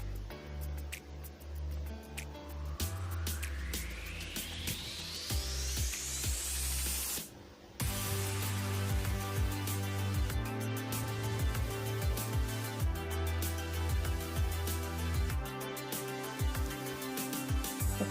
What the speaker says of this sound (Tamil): நான் இந்த ஆயிலை கொஞ்சம் கொஞ்சமாக ஊற்றி அரைச்சி எடுத்துக்க போகிறேன்.